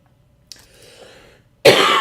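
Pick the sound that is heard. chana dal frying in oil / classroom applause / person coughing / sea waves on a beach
person coughing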